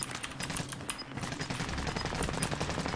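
Dense, rapid automatic gunfire from a shooter video game, sustained bursts crackling continuously and loudly throughout with no pauses.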